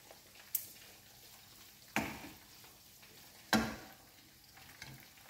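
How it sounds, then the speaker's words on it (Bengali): Chicken fries quietly in a pan with a low, constant sizzle, broken by three sharp clanks or stirring knocks spaced out over several seconds. "মুরগি ভাজা"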